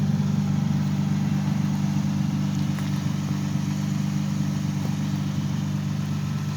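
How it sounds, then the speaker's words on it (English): Toyota Solara engine idling steadily after exhaust work, a smooth, even low hum with no ticking, continuous and moderately loud throughout. "Engine is nice and quiet."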